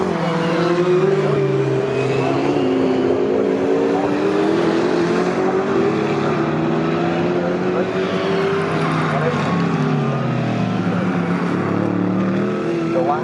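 A BMW GT race car at Snetterton during a GT Cup race holds a loud, sustained engine note with wavering pitch through gear changes, while a commentator talks over it throughout.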